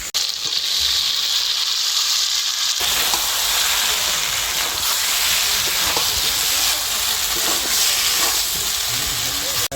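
Pre-fried young jackfruit dropped into hot spiced oil for a jackfruit biryani, breaking into a loud, steady sizzle with crackling pops that persists for several seconds.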